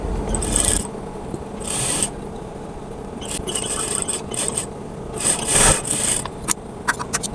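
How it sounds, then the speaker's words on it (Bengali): A sewing machine stitches the neck facing of a cotton kameez in several short whirring bursts separated by pauses, close and moderately loud, with faint handling rustle between runs. "তাই মেশিন দিয়ে সহজেই সেলাইটা দিয়ে নেব"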